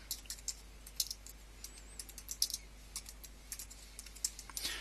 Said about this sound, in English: and we type in the text